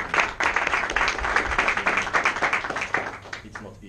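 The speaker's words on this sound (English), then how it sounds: "So please, a round of applause to Toastmasters" A small Toastmasters meeting audience claps after a speech, the individual hand claps distinct and close, forming a steady, uneven round of applause that holds throughout.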